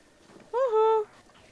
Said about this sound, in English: It's funny, I hear the owls, I just have not seen any owls.